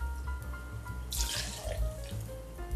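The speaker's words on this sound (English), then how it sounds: "we'll start by grabbing our Fernet Branca and pouring in" Fernet Branca liquor pouring into a highball glass, a steady liquid splash that swells for about a second over low background hum, with no talk.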